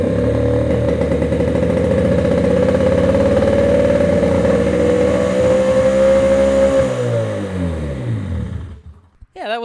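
A rare gas-powered surfboard engine fires up and runs loud and close as a steady, buzzing drone that climbs slightly in pitch, then sags and cuts out near the end.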